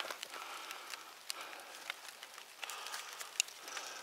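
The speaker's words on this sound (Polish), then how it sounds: "zapowiadali deszcz i jest deszcz" Soft, steady patter of rain in a forest with scattered drops ticking on leaves, fairly quiet and outdoors, with no voices.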